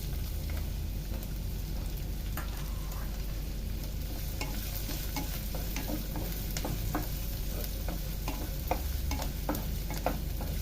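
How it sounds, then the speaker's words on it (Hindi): Finely chopped onion sizzling in a pan as it fries toward translucent, a steady soft hiss with scattered crackles and pops, close and fairly quiet, with no talking. "प्याज को हम खाली ट्रांसलूसेंट होने तक भूनेंगे"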